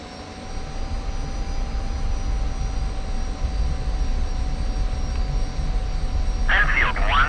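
F-86F jet in DCS World, a steady, loud engine roar with a constant whine humming through the whole stretch as it taxis, and a short burst of radio voice near the end.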